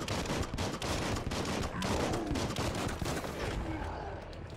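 Continuous rapid gunfire in the video game Biomutant crackles densely for several seconds, loud and close, like a sustained automatic barrage with a faint voice underneath.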